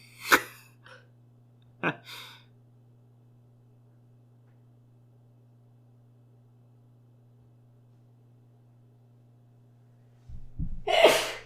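A person in a film scene lets out a sharp, close sneeze right at the start, followed by a softer breath or gasp. A long quiet stretch follows before louder sounds return at the end.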